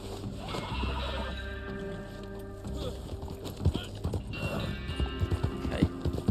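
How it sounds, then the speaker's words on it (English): A horse whinnies loudly in the Red Dead Online video game, with clip-clopping hooves, game music and ambience around it; a second neigh and hoofbeats follow near the end. "It was a wild horse."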